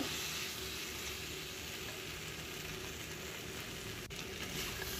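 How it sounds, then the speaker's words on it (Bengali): Vegetables with green chillies and a whole tomato fry in oil in a pan, giving a steady, dense sizzle that runs evenly throughout with no talking. "দেখো, আমি সবজিগুলো তেলের মধ্যে ভালো করে ফ্রাই করে নিচ্ছি"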